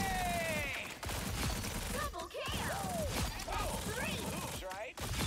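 Star Lord's ultimate in Marvel Rivals spraying shots at training bots, a steady stream of crackling blaster fire with whooshing sweeps and brief breaks, someone talking over it.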